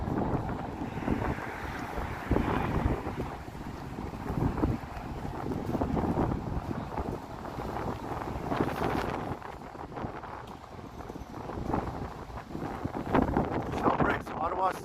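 Strong wind on a cold, snowy day in Toronto buffets the microphone in gusty rumbles, with voices talking faintly underneath throughout.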